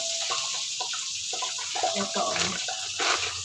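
Water crackles and pops in hot cooking oil in a pot on the stove, a busy sizzling spatter that keeps going under a voice.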